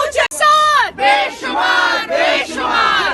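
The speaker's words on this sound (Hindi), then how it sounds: "इमरान खान के हक में, पीटीआई के हक में और हुकूमत के मुखालिफ यहाँ पे नारेबाजी कर रही हैं" Women supporters at a PTI rally in Swabi chant political slogans in loud, rhythmic group bursts, several close shouted phrases repeating with short breaks between them.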